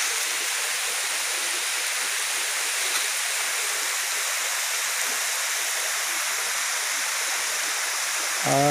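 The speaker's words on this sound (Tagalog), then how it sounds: "Ini itong falls." Steady rushing of falling water at Tobo Tobo Mini Falls in Matalom, Leyte, Philippines, a constant broadband roar close by with no voices, like a small cascade splashing into a pool.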